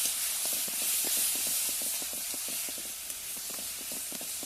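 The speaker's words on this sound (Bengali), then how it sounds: "কড়াইতে রসুন দিয়ে আমি বাগারটা দিয়ে নিব।" Garlic sizzles in hot oil in a wok for a Bengali taro-leaf dish, a loud steady hiss broken by rapid rhythmic crackles and pops.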